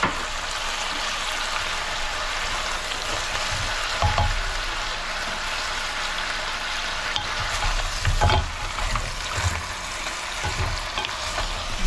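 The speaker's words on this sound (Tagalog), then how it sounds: "At igisa-gisa na natin ang konti." Boiled beef is sautéed in a pan for beef balbacua, giving a continuous close sizzle with a few louder bursts where the meat is stirred and scraped.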